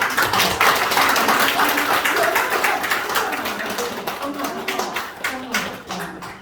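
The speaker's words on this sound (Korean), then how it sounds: "고생해주신 두 분 너무 큰 박수로." An audience at a customer event applauds, loud dense clapping that starts strong and gradually thins and fades over several seconds.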